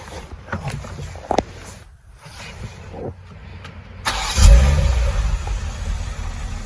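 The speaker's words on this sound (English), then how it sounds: "I'm going to start the car back up again." An INEOS Grenadier engine cranks and catches partway through after a few quiet clicks and knocks, then settles into a loud, steady idle rumble close by.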